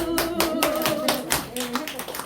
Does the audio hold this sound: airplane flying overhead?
no